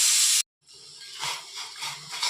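Black tea with ginger and sugar boils in a pot, opening with a loud steady hiss that cuts off abruptly, then returning as softer, pulsing bubbling surges close by.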